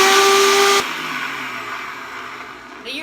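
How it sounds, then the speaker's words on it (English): A blender motor starts with a high whining roar, then drops to a steadier whirring hiss as it keeps blending, loud and close. "I am going to blend this until it's creamy"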